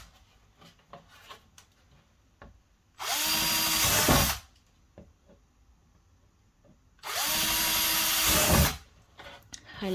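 A power drill bores holes through a plastic worm bin in two loud, close whirring bursts of about a second and a half each, separated by quieter handling noises.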